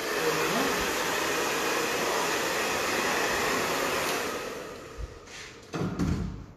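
A hair dryer blows loud and steady at close range while short graduated layered hair is styled, then cuts off, leaving a few thumps and handling sounds.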